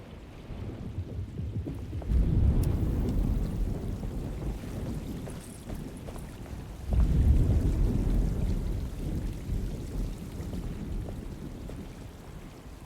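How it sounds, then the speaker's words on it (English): Storm in a video game, heavy steady rain hissing throughout, with two deep rolling thunder rumbles swelling in, one early and one past the midpoint. "Just keeping an eye out for the storm"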